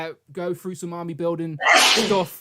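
Someone talks briefly, then a loud, close sneeze bursts out as a single noisy blast right after the speech.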